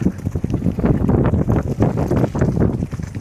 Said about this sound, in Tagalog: Grabe ang hangin dito.